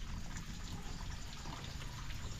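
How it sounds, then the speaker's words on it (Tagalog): Water runs from an open tap that should have been shut, a soft, steady trickling hiss at low level that continues unbroken, with no talking. "Nakabukas yung tubig."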